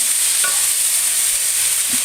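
Steady sizzling of ingredients frying together in a casserole, a constant crackling hiss with a faint clink of stirring partway through.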